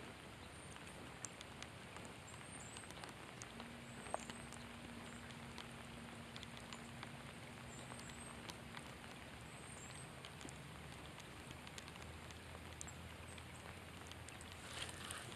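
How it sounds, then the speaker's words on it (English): Heavy December rain pouring down on a riverbank while fishing from shore, a constant dense hiss of drops with occasional sharper patters, fairly quiet and steady throughout. "Oh man, that rain's really coming down now."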